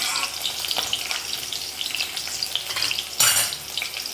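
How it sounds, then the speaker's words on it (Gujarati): Green chillies frying in hot oil for a Gujarati potato curry, giving a steady close sizzle and crackle with a brief louder burst near the end, no voices. "હવે સૌપ્રથમ નાખીશું લીલા મરચાં, લીલા મરચાં થોડા એ થાય એટલે આપણે ગેસની આંચ ધીમી કરી દઈશું।"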